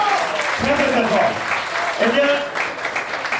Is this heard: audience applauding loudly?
yes